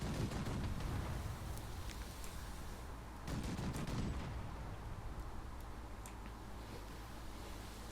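Ship guns firing in The Last Leviathan, a low booming volley near the start and another around the three-second mark, each rolling into a rumbling tail over steady low background noise.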